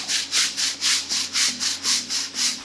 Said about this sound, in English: go back with a short bristled brush and scrub the crap out of the floor